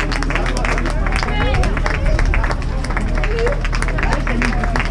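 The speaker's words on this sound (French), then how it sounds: "L'arrivée, toujours avec les applaudissements pour les sportifs qui terminent Alençon Médavy" Sustained clapping and crowd hubbub at the finish line of the Alençon-Médavy running race, steady and fairly loud, with a commentator speaking over the applause throughout.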